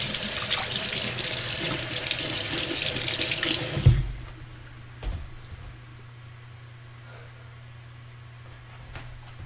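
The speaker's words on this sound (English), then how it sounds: "wash my hands off." Kitchen sink tap gushes steadily while hands are washed, then shuts off with a clunk around four seconds in, leaving a quieter hum and a faint bump or drip afterward.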